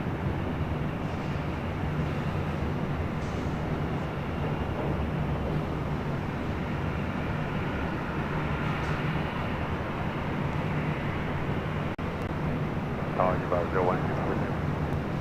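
An Alaska SkyWest Embraer E175 LR jet arrives at LAX from San Jose, its engine a steady broad roar at moderate distance, with someone talking and a crackle of radio chatter over it.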